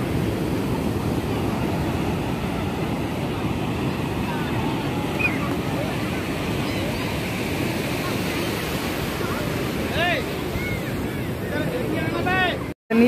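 Ocean waves wash steadily onto a Chennai beach under a thick layer of wind rumble against the microphone, with a few faint chirps late on before the sound cuts off abruptly.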